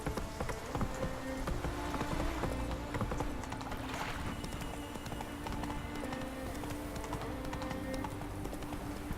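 Horse hooves in the Witcher 3 video game, a continuous quick clip-clop of a trotting horse, even and fairly close, mixed with light clicks and no talking.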